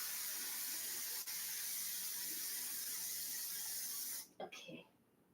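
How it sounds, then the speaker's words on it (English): Cooking spray hissing into a baking pan in a home kitchen, a steady close broadband spray lasting about four seconds that cuts off abruptly, followed by a couple of brief clunks. "And now we're going to spray it and then pour the batter in."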